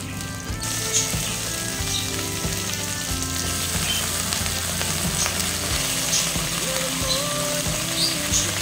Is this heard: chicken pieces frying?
yes